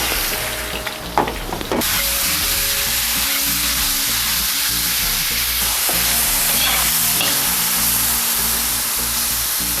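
Meat sizzles and fries at high heat in a kazan cauldron, a steady dense crackle and hiss running the whole time with occasional stirring clatter, close and loud, no talk.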